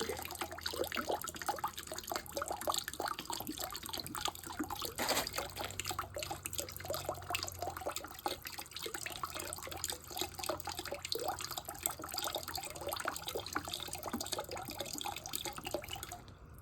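Liquid poured into an acid bath makes a steady, continuous trickle and splash lasting well over a quarter minute, fairly close and even in level, with no voices.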